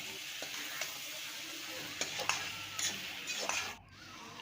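Mutton curry meat sizzles in a hot pan with a few spices, with an even frying hiss and several scraping stirs of a spatula, close and fairly quiet.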